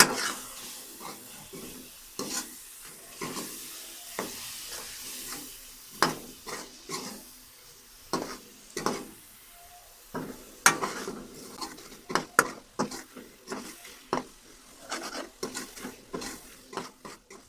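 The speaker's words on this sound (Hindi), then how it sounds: "अच्छे तरीके फ्राई करेंगे" Red chili powder, turmeric and salt fry in a pan, with a faint sizzle under repeated stirring and sharp scraping clicks of a spoon against metal, close by and without any talk.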